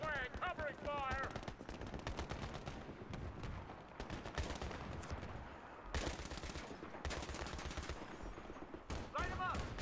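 Battlefield 3 combat with heavy, continuous automatic gunfire and shots crackling almost without pause, loud and close, while voices shout over the shooting.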